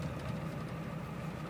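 A 1991 Ford F250 with a 7.3 IDI diesel, fresh from injector replacement, idles steadily with a deep, even low rumble that holds level throughout, close by and uninterrupted.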